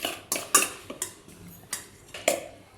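A spoon clinks against a bowl while mixing garam masala, salt and lemon juice for a chicken marinade, with about seven sharp, close metallic taps at an uneven pace.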